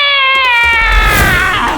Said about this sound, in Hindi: ये वही मोटी बिल्ली होगी।